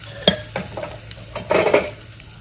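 Curry leaves and asafoetida hitting hot oil for a tempering for a spicy brinjal bharit: close, sharp crackling pops and spits over a soft sizzle, with a few scraping stirs in the pan.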